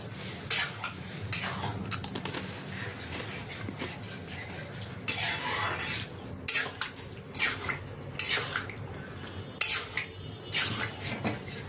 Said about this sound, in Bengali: আমি বয়েল করে রাখা তড়কাটা এর মধ্যে দিয়ে দেবো। দিয়ে এটাকে মশলার সাথে ভালোভাবে মিশিয়ে নেব।